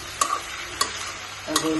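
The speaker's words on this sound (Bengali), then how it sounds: "আমার মিষ্টি কুমারটা সুন্দর করে ভাজা ভাজা হয়ে যেতেছে" Young sweet pumpkin with its peel fries in a pan under a continuous bright sizzle, with three sharp stirring scrapes spaced through the sound.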